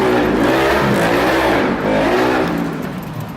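A motorbike engine revs loud and close, a sustained throaty roar with rising and falling pitch that eases off slightly toward the end.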